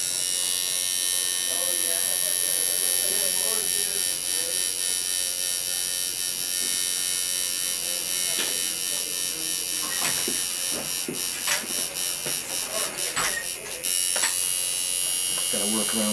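Electric tattoo machine buzzing continuously at close range while laying pure dimension black ink in a tribal-style packing, a steady whine with a few brief clicks and shifts near the end.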